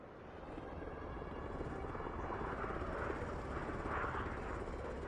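An Apache attack helicopter in the Broken Arrow combat game, its rotor and engine drone steady and fairly loud, swelling slightly as it passes, with no talk over it.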